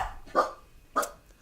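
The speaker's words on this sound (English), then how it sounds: "We have a dog." A dog in a room gives two sharp, close barks about half a second apart, with quiet in between.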